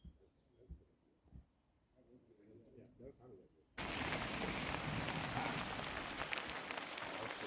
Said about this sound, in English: I see how the rain's coming down.